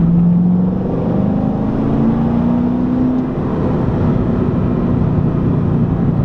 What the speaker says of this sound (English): All right, so here we'll do a 3rd gear pull. So right now the valves are open.